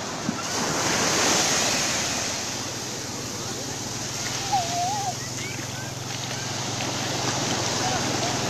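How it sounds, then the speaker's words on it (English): Ocean surf breaking on a beach in Brazil, a continuous loud wash of waves with wind buffeting the microphone, heard alone. "Look at the tide, the wave."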